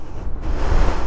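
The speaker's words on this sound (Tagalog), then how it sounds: "Lakas ng hangin." Strong wind buffets the microphone with a loud, low roaring rumble that swells over about a second, with no voices.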